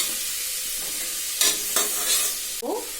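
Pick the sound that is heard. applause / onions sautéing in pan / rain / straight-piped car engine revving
onions sautéing in pan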